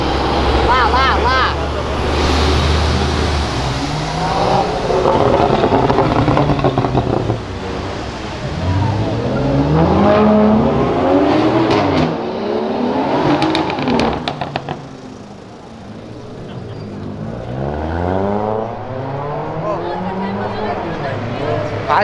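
A Nissan GT-R accelerates hard along Avenida Europa, its engine rising in rapid climbing sweeps through the gears, loud and close, with people talking excitedly over it throughout.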